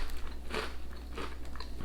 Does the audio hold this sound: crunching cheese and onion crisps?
yes